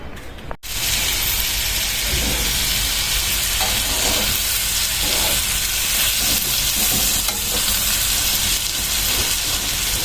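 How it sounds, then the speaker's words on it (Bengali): Shutki bharta, a mash of dried fish, sizzles loudly and steadily in a hot pan while being stirred, with a continuous crackling fry and occasional scraping throughout. "আম্মা দেখলাম হয়তো কোনো শুটকি ভর্তা বানাইতেছে"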